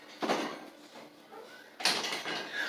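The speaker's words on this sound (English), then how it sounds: "Shut the door." A door is shut indoors, giving a sharp broadband thud near the start followed by a second, louder slam or latch impact later, with a faint rumble and room noise between the two knocks and no voices.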